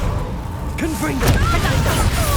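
A Confringo spell goes off during combat in Hogwarts Legacy, a booming magical blast with a rumbling impact and whooshing, swirling effects, layered over game audio and voiced shouts.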